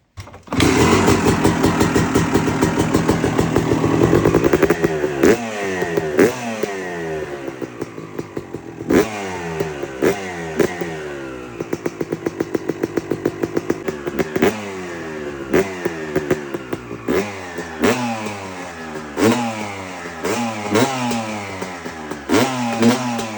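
A two-stroke dirt bike engine with a freshly cleaned carburetor fires up on choke, idling roughly and loudly close by, then blips through repeated sharp revs with crackling, popping drops between them.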